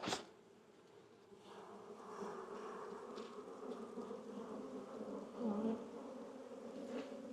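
Honey bees buzzing steadily and fairly close during a hive inspection, a continuous droning hum that swells slightly at times, with no talking.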